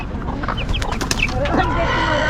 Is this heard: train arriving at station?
no